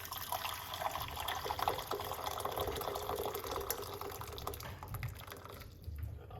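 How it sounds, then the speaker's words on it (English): Steady hot water pouring and trickling into a large cup, a continuous wet splashing stream that runs for several seconds with no talking. "now we're going to put a large cups of hot water"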